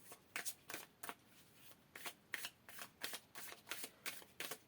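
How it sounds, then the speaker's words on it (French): Tarot cards being shuffled by hand, a series of quick crisp riffling bursts in an uneven rhythm, close and soft, with no voice. "je vais commencer par mélanger mes cartes"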